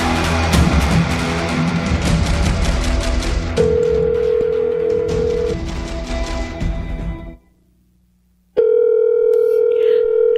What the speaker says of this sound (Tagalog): Kanina pa ako tumatawag. Pero hindi pa rin sinasagot ni Ryan yung tawag ko